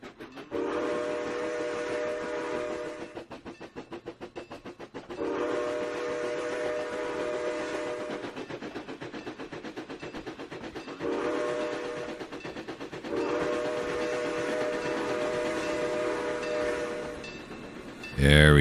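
A train in Trainz 2019 on the C&O Hinton route rolls past with long, steady whistle blasts repeating in several drawn-out sections over a continuous rumble of wheels, loud and close.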